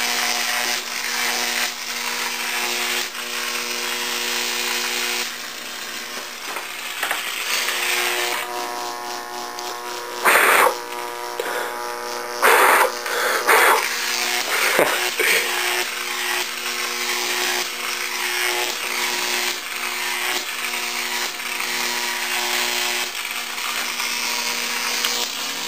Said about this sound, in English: And there's the high voltage spark.